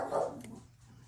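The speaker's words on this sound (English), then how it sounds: "I think he's barking at the washing machine upstairs." A single short bark from a pet dog indoors at home, close and fairly loud, fading quickly into quiet room tone.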